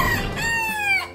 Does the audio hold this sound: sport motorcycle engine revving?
no